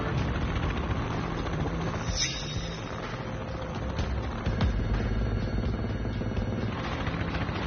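Continuous low thumping drone of a helicopter rotor, steady and close throughout, with a brief high whine near the start.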